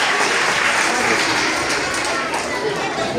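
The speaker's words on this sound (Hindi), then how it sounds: "तो इस बच्ची के लिए बहुत सारी तालियां।" Children and adults at a traffic police education workshop at CDA Model School in Islamabad give a schoolgirl a dense, steady burst of applause that fills the room and holds for several seconds.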